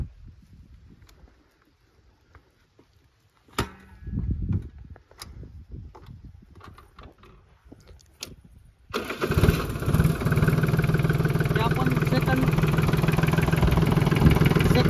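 A Swaraj Target 630 tractor engine running the hydraulics, with faint clicks and handling noises first, then the engine starting and running at a steady close idle.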